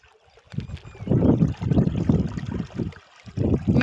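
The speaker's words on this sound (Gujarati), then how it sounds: "જો આ બીજી મોટરનું પાણી આવે છે" Water rushes steadily from the outlet of a second electric water pump motor, a close, loud, broadband gushing that swells and dips slightly, with no voices.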